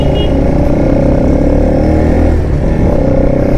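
A Bajaj Pulsar NS200 motorcycle climbs a steep uphill road on a ride near Guwahati, its engine a loud, continuous drone with wind rush all the way through.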